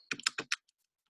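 Four or five quick, crisp key presses on a calculator keypad, close and clear, followed by a single faint tap and then silence.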